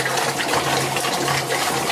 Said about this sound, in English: Now we're going to empty the water out of the tank